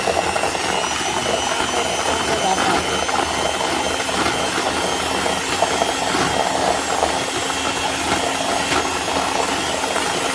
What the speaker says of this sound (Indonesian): kemudian kita mixer menggunakan mixer kecepatan tinggi ya bunda